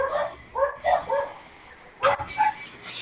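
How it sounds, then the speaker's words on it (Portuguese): A small dog barks in short, sharp bursts, several yips close together, then a pause and another cluster, fairly near against a quiet room. "Tem um cachorrinho."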